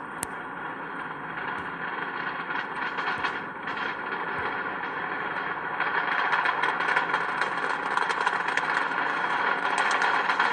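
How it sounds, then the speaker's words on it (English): Distant, steady roar of a SpaceX Falcon Heavy rocket's Merlin engines after launch from Kennedy Space Center, a broad rumbling rattle that swells slightly and holds at a moderate level. "Now beginning to hear the rumble of those Merlin engines as the vehicle pitches downrange."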